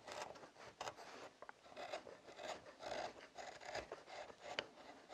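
Knife carving wood to shape a butter knife, a series of quiet dry scraping and shaving strokes in an irregular rhythm, close but faint.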